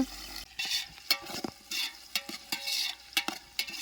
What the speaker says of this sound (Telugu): అల్లం వెల్లుల్లి కూడా బాగా వేగింది